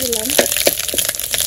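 Panch phoron whole spices hit hot oil in a home kitchen pan for a vegetarian curry, a steady loud sizzle with a few soft pops, while a voice speaks briefly over it.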